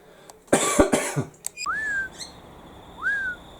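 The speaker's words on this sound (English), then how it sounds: "Looks like all the local miners are in our garden today, and they're off now chasing a magpie." Noisy miner birds chase a magpie in a garden, giving a couple of clear rising whistled calls after a burst of harsh, cough-like noise, heard fairly close.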